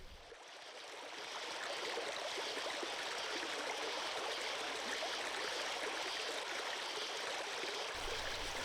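Running water from a tap while washing up, a steady hissing stream that swells in over the first second or two and then flows on evenly and close.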